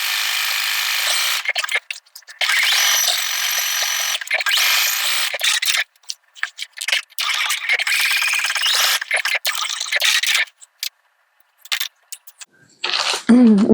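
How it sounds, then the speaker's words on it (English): A sewing machine zigzag-stitches an applique block, running in loud whirring bursts separated by brief stops and short pauses. "sometimes it's hard for me to talk while I'm stitching"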